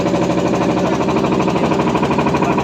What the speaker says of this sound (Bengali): ইঞ্জিনের শব্দ হয়